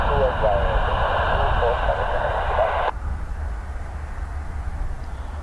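An Antonov An-26B turboprop departs Dublin Airport, with a steady droning engine roar and a tonal whine that cuts off partway, leaving a lower rumble that fades, and a voice talking over it.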